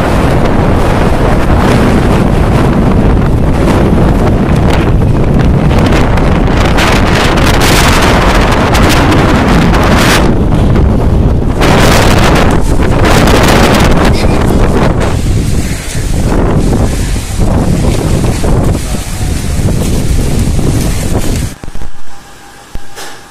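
Strong winds of Cyclone Amphan sweeping the Odisha, Bengal and Bihar region amid rain: a loud, continuous roar of gusting wind buffeting the microphone, rising and falling in surges for the whole stretch, with no voices.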